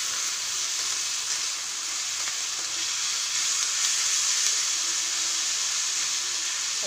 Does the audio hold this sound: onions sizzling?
yes